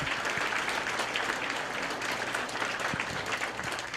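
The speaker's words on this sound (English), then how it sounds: "let's give a big round of applause for all the folks that put this together" Sustained applause from a live show audience after thanks to the organizers, a dense steady wash of many hands clapping at even loudness throughout, with no voices standing out.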